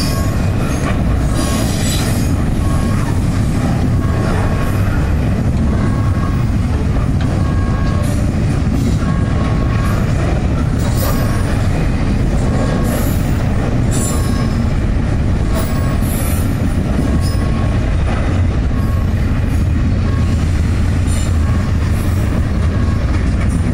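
A long freight train with refrigerated cars and intermodal cars rolls steadily past close by, loud continuous wheel rumble with squealing wheels and intermittent clicking over rail joints, no voices.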